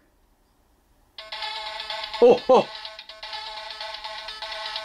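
The DX Shiny Kiramei Changer toy plays its incoming-call ringtone, a bright repeating electronic melody that starts after a second of silence and continues to the end, with a man's brief exclamations breaking in midway.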